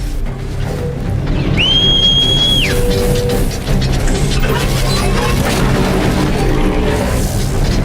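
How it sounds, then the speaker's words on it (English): A single clear whistle, rising then holding steady for about a second, calls a mount in the video game Horizon Zero Dawn, followed by crashing game sounds and rumbling. "the whistling you're hearing was Guy calling for his mount to come"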